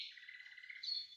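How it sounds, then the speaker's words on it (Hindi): Sparrow chirping near a stone water bowl in a home courtyard strung with wires and rope: a continuous high, bright twittering that swells into a sharper burst near the end, with no other sound. "चिड़िया"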